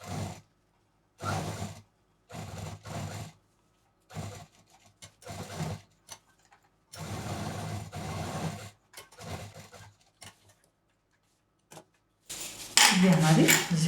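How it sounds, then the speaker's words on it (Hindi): A sewing machine stitches a zip onto a tote bag made from waste material in short, stop-start runs of whirring, separated by silent pauses, ending with a louder rustling clatter. "जिप को बिल्कुल बीच में रखना है और इसको सिल देना है"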